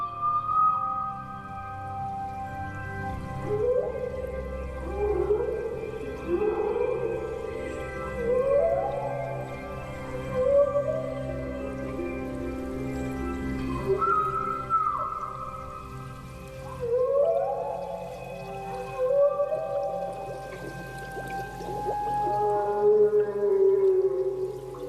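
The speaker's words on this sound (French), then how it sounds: "Le chant d'une baleine à bosse mâle." Male humpback whale singing underwater off Raoul Island, long rising and falling moans and whoops repeating in phrases over a steady low rumble, full and close throughout with no talk.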